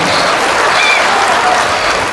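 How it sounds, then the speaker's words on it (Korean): A crowd of older women at a Korean pumba comedy show during a grape festival claps along, a steady dense patter of hands filling the space with no break, fairly loud and close. "박수 한번쳐"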